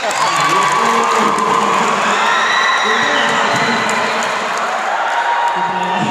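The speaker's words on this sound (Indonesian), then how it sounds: "Oke, tepuk tangan untuk beliau." Loud audience applause and cheering at an indoor training seminar, a dense crowd clapping with shouts and whoops layered over it, sustained throughout the clip.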